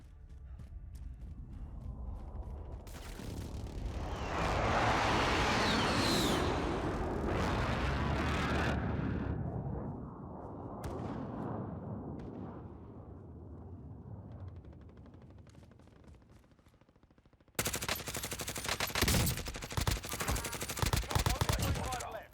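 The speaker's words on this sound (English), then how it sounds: "Precision airstrike, take cover!" Precision airstrike in the game Call of Duty Warzone: a long, loud rumbling barrage of explosions and gunfire swells and slowly fades, then a harsh burst of blasts and crackling returns near the end.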